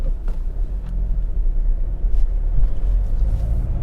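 A Skoda Superb 1.6 TDI rolling over bumps, giving a steady low rumble of road and engine noise from inside the cabin with occasional soft thumps from the suspension.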